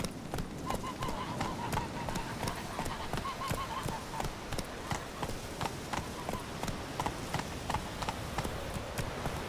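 Horse hooves clop in a steady, quick rhythm from a mount in the video game The Witcher 3, loud and close throughout, with faint voices and a brief whinny-like tone partway through.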